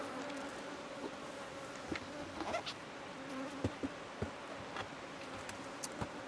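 Honey bees from a queenless hive buzz close around a beekeeper, a steady layered drone with a few sharper passes of individual bees flying near.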